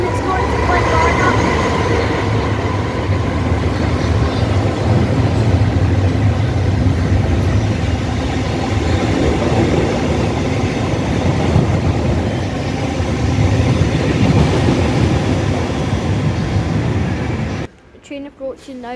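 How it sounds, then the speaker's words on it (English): Train pulling out of Paisley Gilmour Street toward Glasgow Central, a continuous loud rumble of wheels and motors on the platform that holds steady before cutting off near the end. "Off it goes to Glasgow Central, calling at Glasgow Central only."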